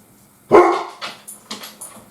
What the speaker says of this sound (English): Or some small dog outside is barking.